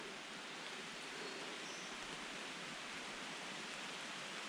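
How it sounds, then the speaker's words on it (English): Steady wind and rain rush through a forest canopy on a steep trail in the Great Smoky Mountains, forming a dense, even hiss with no pauses. "It's wind and rain."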